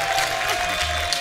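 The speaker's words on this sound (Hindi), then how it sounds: "जोरदार तालियां सुरेश पाजी और प्रियंका भाभी के लिए।" Brief burst of studio audience clapping on a Hindi comedy talk show, fairly loud and continuous, with a faint steady tone and low rumble beneath.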